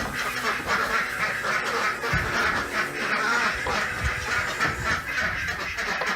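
Khaki Campbell ducks quacking outdoors on a cold winter day, a busy flock making repeated overlapping nasal quacks, close and fairly loud, continuing throughout.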